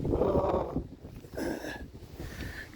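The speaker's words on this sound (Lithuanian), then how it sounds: "Bandau slėptis nuo vėjo." Gusts of wind buffet the microphone in low, rumbling bursts, rising and easing a few times.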